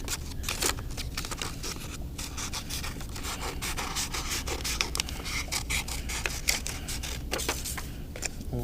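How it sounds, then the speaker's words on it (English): Scissors cut through folded green paper in a wavy line, a close, continuous run of crisp snipping and rasping paper sounds with no talking. "take your green paper, fold it in half, and we're gonna cut it. I'm gonna cut it kind of wavy like."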